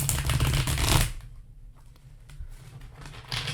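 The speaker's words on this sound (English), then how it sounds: "Here is shuffle number 2." A deck of tarot cards is riffled in one loud burst of fluttering card noise, followed by quieter handling sounds and a short second ruffle at the end.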